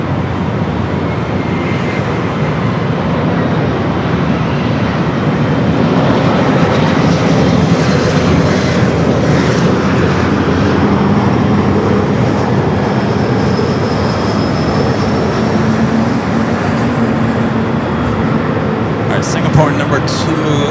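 An airliner's jet engines roar steadily at LAX during a takeoff run on runway 24 left, a loud sustained rumble with a rising whine that holds for the whole stretch.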